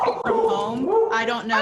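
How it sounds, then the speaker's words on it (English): A dog barks and yips indoors in a home when a doorbell goes off, short sharp barks mixed in under a person talking. "You can't do anything about a doorbell and a dog anymore."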